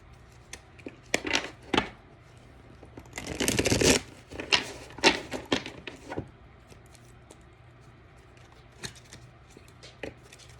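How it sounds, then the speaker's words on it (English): Oracle cards being shuffled by hand, with bursts of riffling and flicking, one loud dense shuffle in the middle, then scattered lighter card snaps that fade toward quiet. "I'm just going to give this a shuffle."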